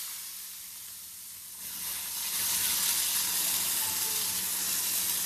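Egg frying in a pan with onion, tomato and chili: a quiet hiss that swells into loud, steady sizzling and spitting oil, close up and continuous, with no one talking.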